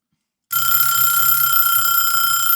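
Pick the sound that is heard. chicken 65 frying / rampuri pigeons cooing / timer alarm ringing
timer alarm ringing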